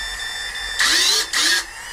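Motors on a Vortex 250 Pro quadcopter spin up in two short, high-pitched whirring bursts over a steady electronic tone, close and fairly loud.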